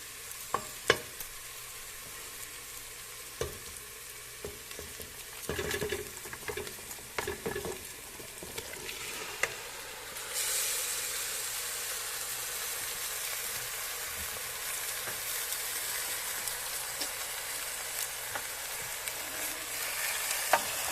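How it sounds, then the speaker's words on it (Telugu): Chicken frying in a pan with masala spices and onions, a soft sizzle with scattered stirring knocks that turns into a louder, steady hiss about halfway through. "ఇప్పుడు నేను తీసుకున్న 2 కేజీస్ చికెన్ వేస్తాం"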